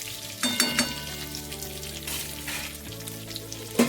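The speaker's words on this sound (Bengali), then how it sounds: "একটু খুন্তি দিয়ে আমি এগুলোকে ওলট পালট করে নেবো" Cashews and melon seeds sizzle steadily in a hot pan while a spatula stirs and turns them, with soft scraping clicks over a constant close frying hiss.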